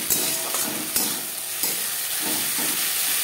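Onions fry with ginger and green chili paste in a steady hissing sizzle, punctuated by a few sharp utensil knocks against the pan.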